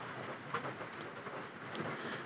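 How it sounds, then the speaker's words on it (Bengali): Steady rain falls outside a home, heard as a faint, even wash of hiss with a few soft drip accents, continuous with no voices. "দেখছো এখনও বৃষ্টি পড়ছে, সমানে বৃষ্টি হচ্ছে।"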